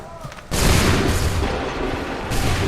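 Musket volley in Assassin's Creed III: massed gunfire erupts suddenly and loudly, a dense roar of overlapping shots that rolls on for nearly two seconds before thinning out over the battlefield din.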